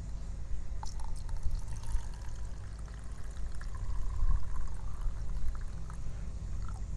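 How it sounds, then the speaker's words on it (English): Water poured and trickling steadily into small cups for gouache painting, a continuous close splashing fill with faint drips and no voices. "I'm gonna get my little water cups here and I'm gonna fill them up."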